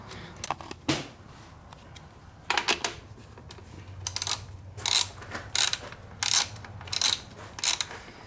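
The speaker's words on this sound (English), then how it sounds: "using a 12mm socket, you can now loosen and take off the 2 support bolts holding the back side frame of the bike" A ratchet with a 12mm socket loosens the rear frame support bolts on a Honda CRF250R dirt bike, producing bursts of quick metallic clicking spread across the clip with short pauses between them, close and without talk.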